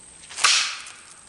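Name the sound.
Crosman Diamondback .22 pellet rifle shot through two pieces of OSB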